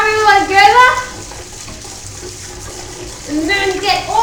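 Water rinses through something being scrubbed, a soft, continuous wash in the middle, framed by a person talking at the start and the end.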